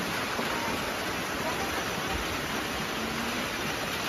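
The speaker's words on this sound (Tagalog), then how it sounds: "Lakas ng ulan." Heavy rain pouring steadily in a dense, even hiss with no breaks, loud and close, no talk heard over the downpour.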